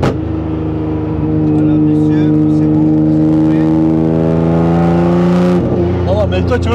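Nissan GT-R R35 tuned to 1500 hp pulling away and accelerating, a loud close engine drone whose pitch climbs steadily, then a sharp shift and settling roar near the end.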